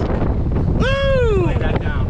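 A sailboat heels under strong wind on the Aegean Sea while heavy gusts buffet the microphone with a constant roar, and a voice lets out a long whoop that slides downward partway through.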